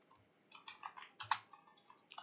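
A computer keyboard pressed for a copy shortcut: a short run of soft, close clicks and taps, quiet and alone with no talk.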